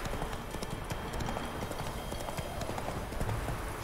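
A horse trots at a steady clip in The Witcher 3, its hooves clopping rhythmically over a continuous ambient bed, with game voices faintly underneath.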